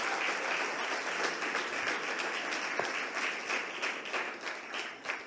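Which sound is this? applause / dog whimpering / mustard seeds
applause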